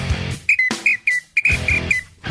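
Several sharp, shrill whistle blasts in quick succession, loud and close, with short pauses between them.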